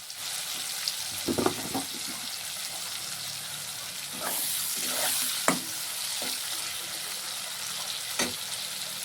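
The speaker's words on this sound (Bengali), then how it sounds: "পেঁয়াজটা দিয়ে দিলাম। এখন একটু ভাজা ভাজা হবে" Onions frying in a pan for a home chicken curry, a steady sizzle with a few scraping stirs of a spoon against the pan, nearby and moderately loud, with no talking.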